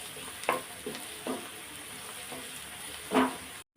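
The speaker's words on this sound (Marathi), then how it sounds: "तेलामध्ये 3 मिरच्या पण टाकायची, हिरवी मिरची, आणि ती पण आता कांद्यासोबत अशी छान परतून घ्यायची" Green chillies and onions sauté in hot oil for a dhaba-style tawa egg masala, a steady close sizzle broken by a few scraping stirs of the spatula.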